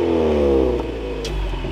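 A 2021 Ford Mustang EcoBoost barks through its exhaust with the valve open in track mode, giving one quick, loud rev that climbs and then falls away as the engine settles back toward idle.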